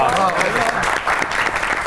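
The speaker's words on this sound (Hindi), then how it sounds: "ताली होनी चाहिए।" Studio audience at a Pakistani comedy talk show breaks into steady applause, a short dense patch of clapping with talk underneath.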